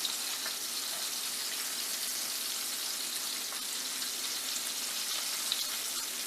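Breaded shrimp frying in oil sizzle with a dense, continuous hiss and fine crackle at a steady level, heard alone without any voices.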